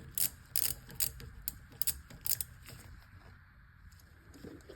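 A ratchet wrench loosens the bolts on a BMW N54 high pressure fuel pump during a teardown, giving short bursts of crisp clicking pawl sounds. The clicks are close and fairly quiet, separated by brief pauses.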